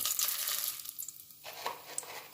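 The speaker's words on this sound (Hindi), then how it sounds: "सबसे पहले हम इसके अंदर डालेंगे तेज़पात के पत्ते, जो हम 2 के करीब डालेंगे" Bay leaves dropped into a hot pan for chicken gravy sizzle with a bright crackling hiss that dips briefly, then returns with scattered pops, close and steady without any voices.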